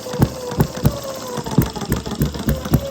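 A Retrol HM-01 hit-and-miss engine runs close by, its firing pulses arriving in an uneven, thumping rhythm of about eight beats over a steady mechanical rattle.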